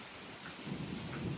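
Summer thunderstorm with wind and rain, a faint hiss of rain and gusts that swells into a low rumbling roar toward the end, no talking.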